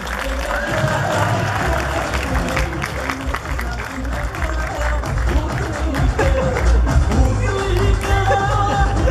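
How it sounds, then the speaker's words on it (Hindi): A studio audience claps steadily and loudly for a guest being welcomed on stage at a televised courtroom-style show, with sustained dense applause and some crowd murmur throughout. "चुप मोहन सिंह जी का तालियों से स्वागत।"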